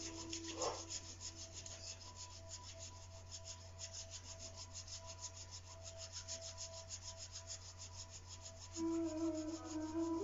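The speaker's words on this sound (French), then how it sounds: "Frotte mes palmes." Palms rub together in a steady, rhythmic back-and-forth swish, close and soft, continuing for about ten seconds beneath a low background hum.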